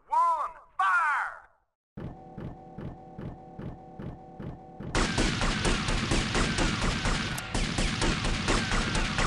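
A firing squad volley in Grand Theft Auto: Vice City – The Definitive Edition follows shouted commands, with an evenly ticking sequence of sharp mechanical clicks before a dense, sustained burst of overlapping gunshots that rattles on loudly for several seconds.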